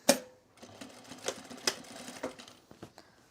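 A sewing machine stitching fabric in short, quiet bursts of rapid mechanical clatter, with a sharp click at the start and a few separate taps between runs.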